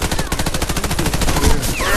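Rapid automatic gunfire from the online shooter Warface, loud and close, firing in a fast continuous burst across the whole moment.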